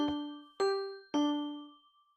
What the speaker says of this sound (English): this is Japanese door chime for the commuter lines